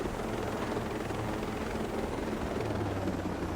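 A helicopter in the video game Ghost Recon: Breakpoint gives off a steady, dense rotor and engine roar, continuous and moderately loud with no speech.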